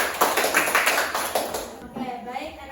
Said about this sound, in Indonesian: Berikan tepuk tangan kepada norma kesopanan.